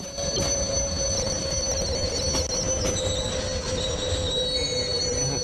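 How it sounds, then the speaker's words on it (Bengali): A train in the TSBD train simulator mobile game squeals steadily on its wheels as it brakes after running past a station, with a continuous loud rolling rumble underneath throughout. "এখন স্টপ করে দেবেন ট্রেনটি"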